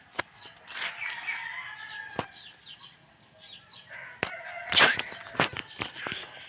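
A rooster crows amid flapping wings and scattered bird calls, with sharp clicks and knocks breaking through at irregular moments.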